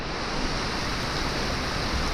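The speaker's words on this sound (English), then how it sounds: "Can you hear it? It's raining. It's pouring right now." Heavy rain pours down outdoors on Lake Fontana, a steady, dense hiss of constant loudness with no breaks and no voices.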